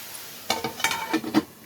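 Bitter gourd sautéing in oil in a home kitchen pan, a soft steady sizzle broken by several sharp scrapes and clinks of a spoon stirring against the metal.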